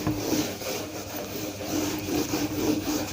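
An eraser scrubs across a board to wipe out writing, a steady close-up rubbing and scraping in repeated strokes with no talking.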